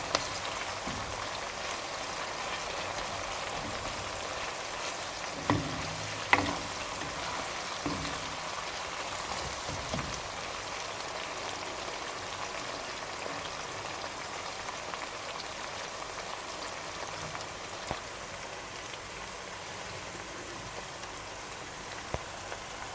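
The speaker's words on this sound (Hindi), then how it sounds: "1-2 मिनट के लिए हम इसे और भूनेंगे, फिर हम बाकी की चीज़ें ऐड करेंगे।" Masala sizzling in a pan while being fried for achari dal mash, a steady dense crackle and hiss with occasional louder pops, no voices.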